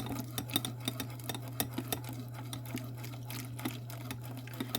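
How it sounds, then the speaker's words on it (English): Spoon stirring cream and coconut milk in a pot for a keto coconut cream pie filling, with irregular light clinks and scrapes over a steady low hum close by. "Just add a little bit at a time and stir it. Keep stirring as you add it."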